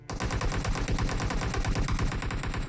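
In PUBG Mobile, loud sustained automatic gunfire crackles as a rapid, steady stream of close shots that continues almost without pause for nearly three seconds.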